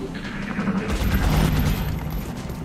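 Rifle fire in the tactical video game XCOM, a marksman rifle shot heard as a dense, booming burst of gunfire that swells and rolls through the middle of the moment, steady and loud with no talk.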